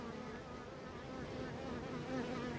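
Honeybees drone steadily at an open hive during work without a queen excluder, a close, continuous buzzing hum that holds level throughout with no talk.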